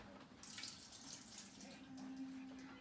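Water from soaked almonds draining steadily into a sink, a continuous close splashing flow with a faint high tone.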